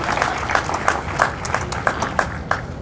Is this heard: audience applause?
yes